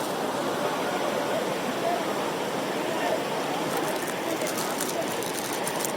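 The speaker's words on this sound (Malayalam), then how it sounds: "പക്ഷേ ശക്തമായ ഒഴുക്കാണ് പുഴയിലുള്ളത്" A strong river current in flood during heavy rain at Chooralmala, a steady, broadband rushing roar of water running unbroken and loud throughout, with faint rain-like patter later.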